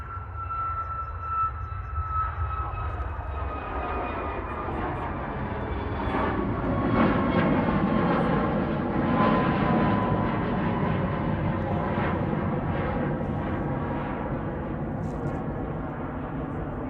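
A Boeing 737 MAX 8 bound for Barcelona accelerates down the runway, its jet engines building from a whine into a loud sustained roar that stays steady and fairly near for the whole stretch.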